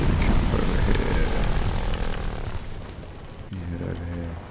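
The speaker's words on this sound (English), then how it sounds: "You see there's a helicopter up there." Helicopter flying overhead in the video game Ravaged, a steady broadband rotor-and-engine drone running throughout, loud at first and easing slightly toward the end, with a voice talking over it.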